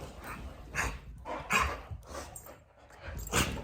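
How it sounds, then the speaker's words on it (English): A pet dog named Sophie pants in a steady rhythm of breathy bursts, close and fairly loud, with occasional soft whimpers mixed in. "This is my parents' doggy."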